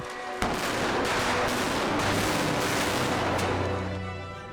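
A loud, dense barrage of gunfire-like special effects blasts and booms on a film set erupts suddenly, rumbling continuously with heavy low-end impacts before fading slightly at the end.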